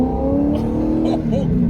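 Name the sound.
supercharged C5 Corvette accelerating, engine revving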